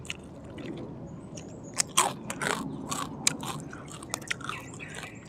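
Crisp bites of fried-style crunchy kale flower stalks eaten alongside spicy Thai papaya-style salad with fermented fish, with several sharp crunching bites and chewing close up against a quiet background.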